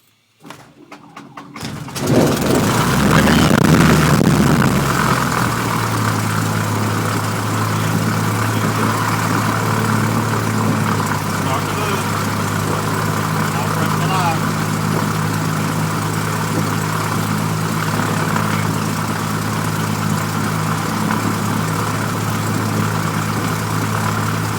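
A Cessna 172 F propeller engine cranks briefly after near silence, catches with a loud roar, then settles into a steady, throbbing idle that continues unbroken and close by, with no talk.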